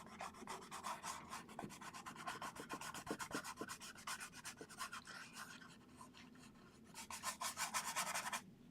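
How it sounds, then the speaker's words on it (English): An oil paint brush scrubs across canvas with quick, rhythmic rasping strokes, close and quiet, coming in bursts of rapid back-and-forth rubbing. "Let's see how well this brush does with a little scrubbing"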